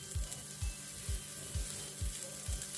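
Stuffed portobello mushrooms cooking in a frying pan give off a low, steady sizzle, with about six evenly spaced soft thumps running underneath, close and fairly quiet.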